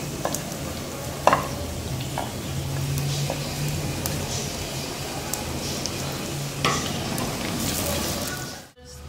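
Onions frying in melted fat for palak gosht, stirred with a spoon: a dense, continuous sizzle with occasional scraping knocks against the pot, close and fairly loud, ending abruptly, no speech.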